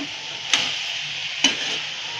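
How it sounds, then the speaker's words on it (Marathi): A spoon stirs pea and soya chunk masala in oil in a pan, giving three scraping strokes at a steady pace over a constant close sizzle. "हे मी चांगलं हलवून घेते एकजीव करून"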